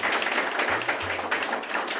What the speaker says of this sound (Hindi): Big clapping for him guys.